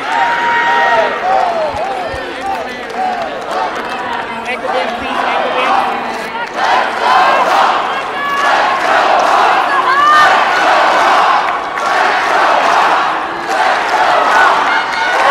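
An Iowa crowd at the National Collegiate Women's Wrestling Championships chants in loud rhythmic unison, voices rising and falling in repeated bursts across a packed arena, with shouts and some clapping mixed in.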